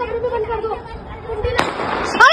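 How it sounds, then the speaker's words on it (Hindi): Gunshots ring out outdoors in Haldwani amid unrest: two sharp, cracking bangs, the first sudden and loud, the second a moment later, over a background of people talking and murmuring. "सर ये देखो गोलियां चल रही हैं"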